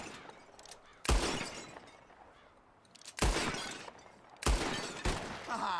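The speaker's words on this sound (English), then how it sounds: "Whoever shoots more of these bottles wins." Gunshots in Red Dead Redemption 2 shattering glass bottles during a shooting contest, three sharp loud cracks spaced about two seconds apart, each followed by a brief spray of breaking glass.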